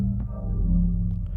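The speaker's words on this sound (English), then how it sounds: "I'll just create a slow attack there" A soft synthesizer tone swells gently instead of striking, holding a low, warm chord that sustains quietly throughout.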